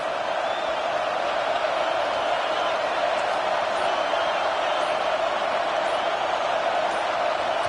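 A football stadium crowd roars loudly and continuously, a dense, unbroken wash of cheering and noise that holds steady from start to finish.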